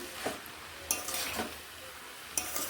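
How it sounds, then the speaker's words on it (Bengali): Vegetables being stirred in a pan for a spice-free vegetarian dish: a few scraping clinks of a utensil against the pan over a low sizzle, close and fairly quiet, with no talking. "এবার এইভাবে নেড়ে নিচ্ছি"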